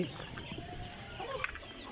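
Quails make soft clucking calls amid a busy, noisy background, close and fairly quiet.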